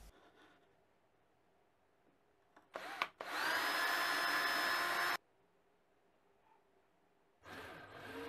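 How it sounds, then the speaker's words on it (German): Power drill boring drainage holes into the wooden floor of a nest box, a loud whining burst of about two seconds after a short start, then quiet, then the drill starting again. "Um in den Nistkasten eindringende Feuchtigkeit das Ablaufen zu ermöglichen, werden in den Boden einige Löcher gebohrt."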